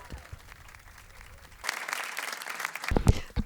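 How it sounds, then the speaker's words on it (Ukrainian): Applause breaks out partway through, a dense burst of clapping from an audience at a Catholic youth gathering in Medjugorje, following a quieter stretch, with a voice rising near the end. "Вітаємо їх з оплесками."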